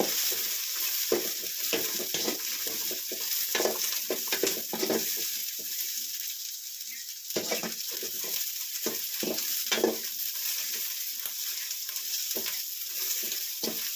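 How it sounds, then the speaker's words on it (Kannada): Onions and garlic frying in oil in a pan, a steady close hiss and sizzle running throughout, broken by frequent stirring scrapes and a brief dip in the sizzle partway through, with no voices. "ಈರುಳ್ಳಿ ಎಲ್ಲನೂ ಫ್ರೈ ಮಾಡ್ಕೊಳ್ಳೋಣ ಇದರಲ್ಲಿ"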